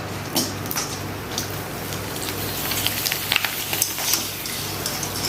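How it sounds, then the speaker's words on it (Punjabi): Papads crackle and sizzle steadily in hot cooking oil, a dense, continuous frying hiss with scattered sharp pops, close and moderately loud, with no talking. "ਆਪਾਂ ਥੋੜੇ ਜਿਹੀ ਪਾਪੜ ਵੀ ਫਰਾਈ ਕਰ ਲੈਨੇ"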